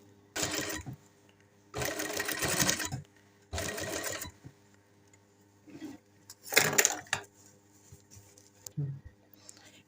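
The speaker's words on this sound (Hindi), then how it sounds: "तो इसके ऊपर सिलाई लगा लेनी है।" A sewing machine stitches over folded-in fabric edges while making a dress neckline, running in about five distinct bursts of steady, rapid whirring separated by short quiet pauses.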